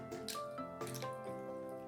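Water drips faintly and irregularly as pulp for Tirunelveli halwa is squeezed by hand in a kitchen, with small close splashes and no talking.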